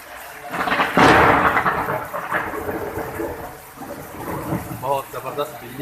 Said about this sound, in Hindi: बहुत ज़बरदस्त बिजली कड़की है।